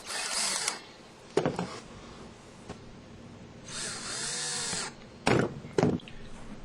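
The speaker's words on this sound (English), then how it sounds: "Then the ring is screwed in place through the outer shell." A power drill or driver runs in several short bursts, screwing a ring through the outer shell of a plastic bucket being built into a retained-heat cooker, with brief clicks and knocks between bursts.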